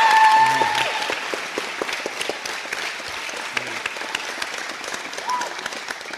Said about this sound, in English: And that was a big applause.